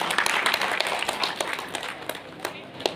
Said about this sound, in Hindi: एक बार जोरदार ताली हो जाए सर के लिए